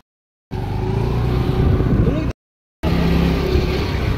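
A car being driven carrying students during farewell preparations at a university in Bihar, its steady engine and road rumble running close and constant, briefly cutting out before resuming, with a voice faintly underneath.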